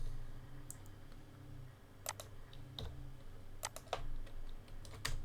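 Keys on a computer keyboard tap out an Alt code, a few sharp, close clicks scattered over several seconds against a quiet, humming room, some keystrokes bunched in quick pairs.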